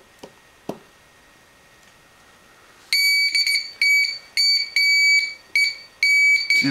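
A homemade Morse code oscillator built into an Altoids tin sounds a shrill, high-pitched tone keyed on and off in a string of uneven beeps, after a couple of faint clicks.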